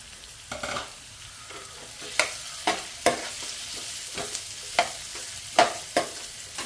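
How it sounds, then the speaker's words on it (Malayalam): Boiled potatoes and carrots being stirred in a frying pan, with a soft sizzle underneath and a series of sharp spoon scrapes and knocks at irregular intervals. "നമ്മൾ ഇളക്കി ഒന്ന് സെറ്റാക്കാം"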